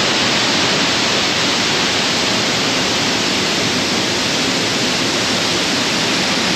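The Oropendola Waterfall in Costa Rica, a loud, constant roar of falling water that fills the whole clip as an unbroken rushing hiss, close and steady with no voices.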